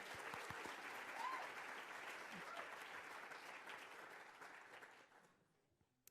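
At a physician assistant white coat ceremony, the audience applauds and cheers the graduating class with a sustained, even roar of clapping that gradually fades over the last second.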